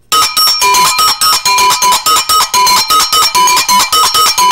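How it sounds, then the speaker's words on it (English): Arboga bells, metal percussion of African origin, are struck in a steady fast pattern, bright ringing metallic hits repeating with a shimmering sustained overtone, loud and close with no talking. "This is called the Arboga bells."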